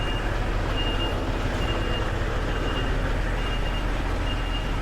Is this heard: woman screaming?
no